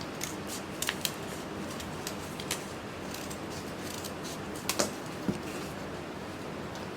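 Scissors cutting paper, faint quiet snips scattered irregularly over a soft background hiss, with a few sharper clicks near the start and middle.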